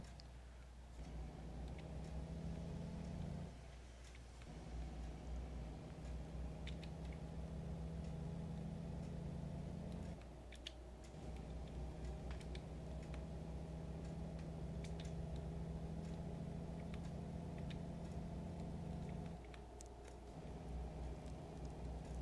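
A truck engine drones steadily in American Truck Simulator, a low, constant hum with three brief dips where the engine note drops off, as if during gear shifts. The drone is moderately quiet and plays with no talking.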